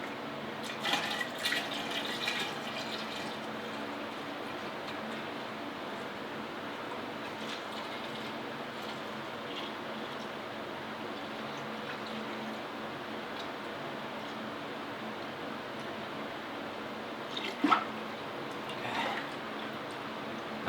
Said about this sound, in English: Pour in the wort.